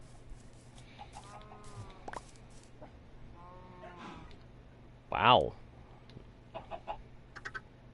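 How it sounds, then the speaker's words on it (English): Chickens clucking in Minecraft, several short warbling clucks near and fairly faint, mixed with a person speaking and a loud exclamation. "Let's go feed the chickens."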